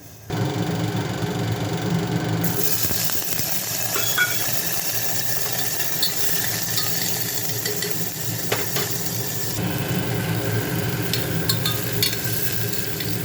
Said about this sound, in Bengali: আগে আলুটা সয়াবিনটা ভেজে নেব